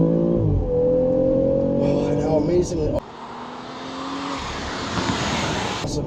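A 2018 BMW X3 M40i's inline-six hums smoothly and steadily, dips briefly as it shifts, then carries on as broader road and engine noise, heard up close beneath someone talking excitedly.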